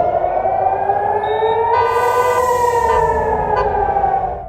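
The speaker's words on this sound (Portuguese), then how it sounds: "Sirenes soaram em Jerusalém após lançamento de foguetes de Gaza." A loud, wailing air raid siren in Jerusalem after rocket launches from Gaza holds a steady rising and falling tone, continuous and unbroken, with a faint rumble of traffic beneath it.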